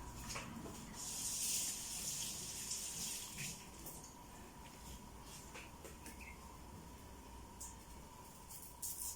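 A kitchen tap runs steadily while sliced onions are rinsed under it, a soft close stream of water with faint splashes and no voices.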